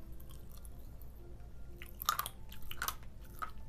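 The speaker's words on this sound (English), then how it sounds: "I don't like you crunching it up." Close, faint crunching of grape-flavoured fizzy candy being chewed, a few crisp bites clustered in the second half over quiet room noise, with no talking.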